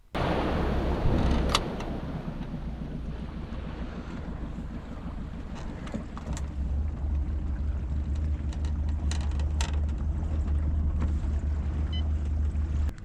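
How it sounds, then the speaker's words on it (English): An electric trolling motor pushes a small fishing boat, heard as a low steady hum under constant wind and water noise on open water, with occasional knocks and splashes. "I've got my trolling motor down now. I'm just motoring up."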